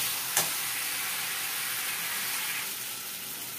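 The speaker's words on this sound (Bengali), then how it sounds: "এবার আমি এর মধ্যে জল দিয়ে দেবো।" Water poured into a pan of softened frying potatoes, a sharp splash at the start giving way to a loud, steady sizzle that holds for several seconds.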